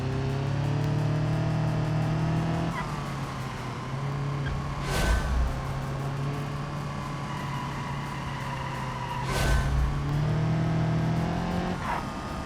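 A car engine in the BeamNG racing game hums and revs steadily up close, rising and dropping through shifts, with two brief bursts of broadband noise marking moments of tire squeal or scrubbing.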